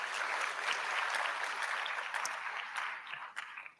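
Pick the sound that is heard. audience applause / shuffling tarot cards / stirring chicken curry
audience applause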